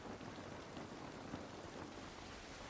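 Steady rain falling outdoors in The Last of Us Part I, a dense continuous hiss and patter on surfaces with no talking, even and unbroken throughout.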